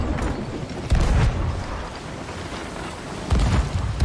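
Ship cannons fire in the Sea of Thieves video game, two heavy booms spaced a few seconds apart over a rumbling background of sea and battle noise.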